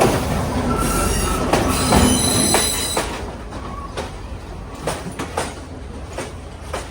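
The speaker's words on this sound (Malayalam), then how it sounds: "ഇതൊരു ലോക്കൽ ട്രെയിനാണ്." A Sri Lanka Railways local train at Secretariat station rolls past with a loud rumble and squealing wheels, then repeated clanks and clicks of the carriages as the noise eases.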